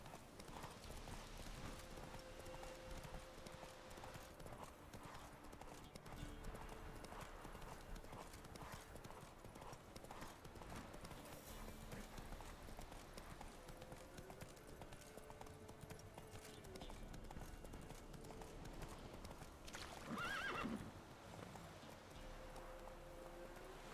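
Rhythmic clip-clop of horse hooves trotting along in the video game The Witcher 3, with a brief neigh near the end, over a low ambient backdrop.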